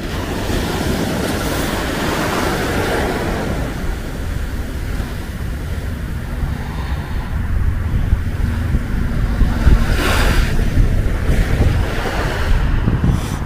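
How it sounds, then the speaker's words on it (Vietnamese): Winter sea waves wash onto the beach at Limassol, Cyprus, in a continuous surging roar mixed with gusty wind buffeting the microphone, swelling louder toward the end. "Đây, biển đây có đẹp không?"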